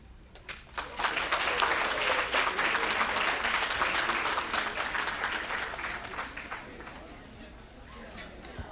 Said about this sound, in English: you already gave yourself a round of applause